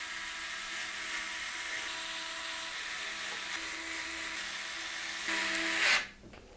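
A power screwdriver drives short radiator screws to fix a Phanteks Glacier One 360 T30 Gen2 AIO cooler radiator to the top of a PC case. It makes a steady high whine for several seconds, briefly rises, then cuts out.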